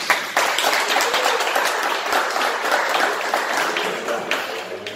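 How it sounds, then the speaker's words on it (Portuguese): A church congregation at an evangelical theology class gives sustained, dense applause in a hall, steady and fairly loud with a few voices mixed in. "Aplauda o Senhor."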